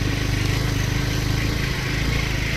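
A motorbike engine runs close by with a steady low rumble that pulses evenly throughout.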